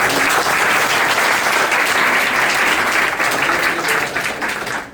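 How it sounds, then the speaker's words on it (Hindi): A large audience at a motivational event breaks into loud, sustained applause, dense and even from start to finish before easing slightly at the end. "मैं चाहूँगा इनके लिए एक जबरदस्त तालियां हों"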